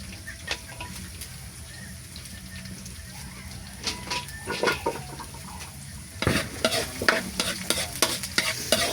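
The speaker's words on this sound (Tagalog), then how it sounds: "yung ginigisa kong adobo" Chicken adobo being sautéed in a pan, a continuous sizzle with repeated scraping and clinking stirs that grow louder and busier in the last few seconds, close up with no talk.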